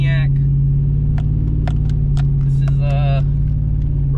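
A custom TrailBlazer SS is driven hard, its engine droning loud and steady with a deep rumble throughout while a voice talks and exclaims over it.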